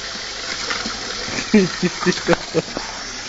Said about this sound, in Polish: Przelej wodę. Lej do... do krawędzi lej.